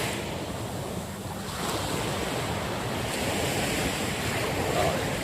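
Continuous surf rolls in along the seashore at Little Boracay in Conception, with gusting wind buffeting the microphone and a dense, roaring wash that swells slightly toward the end.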